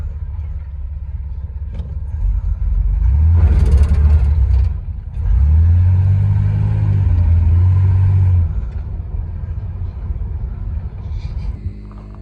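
A Cutlass car driving a victory lap, its engine rumbling and revving up twice in strong surges before settling to a steady drone, close and loud with no talking.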